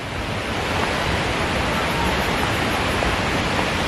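A steady, dense roar of rushing, falling water from the waterfall at Tangga Seribu, Kepala Siring Kemumu, North Bengkulu, fills the whole clip, loud and close, with no voices heard.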